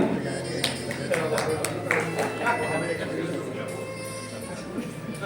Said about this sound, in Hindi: और एक बार इनके लिए जोरदार तालियां।